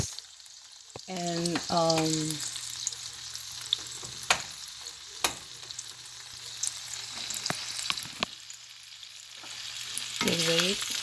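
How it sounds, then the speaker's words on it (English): Hot link sausages frying in a pan, a steady close sizzle running throughout with a few sharp clicks and scrapes; a brief spoken word cuts in near the start. "but I'm using hot links. So I'm gonna fry this"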